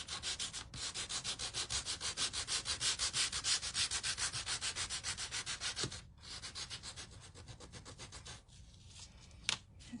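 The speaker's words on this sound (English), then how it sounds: "now use this one to sand some of the black on this." Sandpaper rubbed back and forth over a small painted watermelon door hanger kit piece to remove black paint, a close, steady rasping rhythm of quick strokes that pauses briefly, then continues more softly with a sharp knock near the end.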